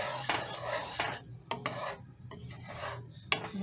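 A spoon stirs a Cajun shrimp pasta sauce with heavy cream in a pan, giving soft scraping strokes and a light simmering sizzle with a few sharp clinks against the pan, close up and without talk.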